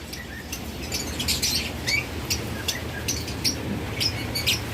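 Caged lovebirds that have begun nesting chirp and squawk in quick, scattered bursts, close by and fairly busy, over a steady background hiss with no talking.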